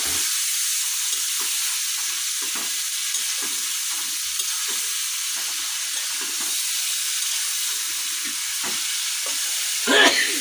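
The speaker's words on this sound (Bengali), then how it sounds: "এই যে গোশ দেওয়া হচ্ছে এখন এটা কষানো হবে" Meat sautéing and being stirred in a hot pan, giving a steady, close sizzle with repeated scraping strokes throughout and a brief louder burst near the end.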